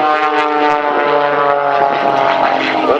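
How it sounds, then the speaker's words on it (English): A propeller-driven aerobatic airplane performing at an air show at Robins Air Force Base, its engine droning loudly and steadily with a shifting pitch as it moves through maneuvers, with no voices. "take that airplane through its paces here at Robbins Air Force Base"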